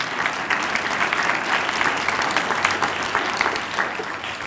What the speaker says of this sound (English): How about another round of applause for Robert Garcia